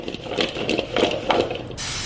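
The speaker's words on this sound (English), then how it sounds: "I'm going to start with a good amount of olive oil spray" Olive oil cooking spray hisses in one close, steady burst from the can, coating food for air-fryer meal prep, after a few soft handling clicks and rustles.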